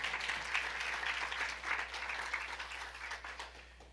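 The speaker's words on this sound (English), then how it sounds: "You should probably give yourselves a round of applause for the work that you do." Audience at a Medicare conference in Ottawa breaks into applause, a moderate, somewhat distant wash of clapping that swells and gradually tapers off.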